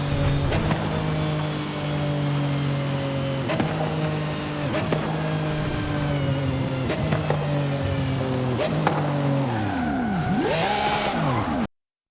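A Porsche Carrera driving in Forza Horizon 5, its engine droning steadily with repeated gear shifts and revs rising and falling, ending in a swooping surge before cutting out.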